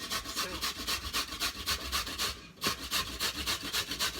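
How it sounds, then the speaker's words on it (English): Pumpkin pieces are rubbed against a hand grater in quick, regular rasping strokes, close and steady, with one short break midway. "I grate it like this, so it's easier when I put it in my soft rice."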